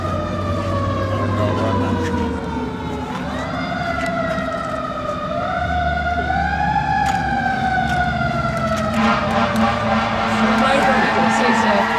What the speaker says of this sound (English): This is a 20-line fire truck salute right now.